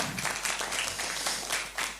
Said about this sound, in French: Je vous demande d'applaudir nos intervenants, s'il vous plaît.